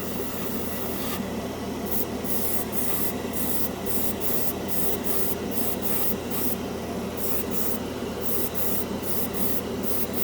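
An airbrush sprays cheap craft store acrylic paint in a steady close hiss, with rapid rhythmic bursts of brighter spraying pulsing over the continuous airflow.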